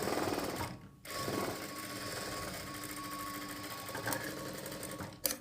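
A sewing machine stitches blouse fabric in a fast, steady whirring run. It pauses briefly, then resumes at the same close, even pace.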